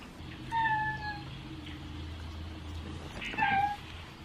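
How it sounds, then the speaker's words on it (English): A feral male cat, recently treated with antibiotics and herbs and regaining his voice, lets out two long, wavering meows separated by a quiet pause, fairly close against faint background hum. "It's just when he's meowing and howling, the other cats get all upset."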